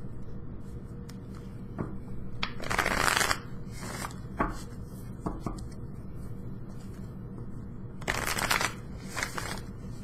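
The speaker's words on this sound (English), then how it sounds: "I'm going to go ahead and shuffle" Tarot cards being shuffled by hand during a love reading, with bursts of riffling and soft slapping around three and eight seconds over a quiet room hum, no talk.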